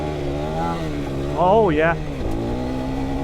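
A KTM 390 Adventure R motorcycle engine drones steadily, then rises briefly in pitch as it pulls in second gear before settling back, with a rider speaking over the engine noise.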